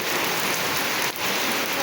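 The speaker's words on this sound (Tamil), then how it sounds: "மழை பெய்யுது இன்னைக்கு." Heavy rain pours down steadily outdoors, a dense, unbroken hiss of drops striking surfaces at close range with no pauses.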